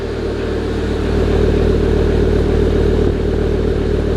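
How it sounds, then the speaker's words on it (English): A vehicle engine idles steadily through a GTI muffler, a low, even drone that stays close and fairly loud with little change in pitch. "This is the GTI muffler."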